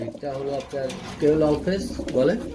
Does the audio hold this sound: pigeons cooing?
yes